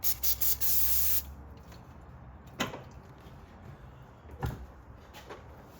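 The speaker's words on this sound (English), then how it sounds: "I'm just gonna take a little brake cleaner on a rag and try to clean it" Brake cleaner is sprayed from an aerosol can onto a rag in a garage working on a Nissan Frontier engine: several short, loud hissing bursts up close, then quieter handling sounds with two soft thumps.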